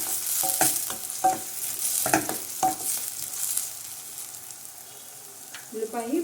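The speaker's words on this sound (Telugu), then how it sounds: "మీడియం ఫ్లేమ్లో పెట్టేసుకుని ఒక స్పూను సాల్ట్ కూడా యాడ్ చేసుకున్నాం" Onion with a spoon of salt cooking in a pan on a medium flame, for a raw prawn and amaranth stem curry. Repeated spoon stirring strokes scrape over a steady soft sizzle, with a light clink near the end.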